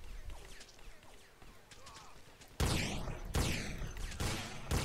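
Gunfire in the video game SA-MP during a paintball roleplay match: quieter distant shots and voices at first, then several loud, close, crackling bursts of rapid fire.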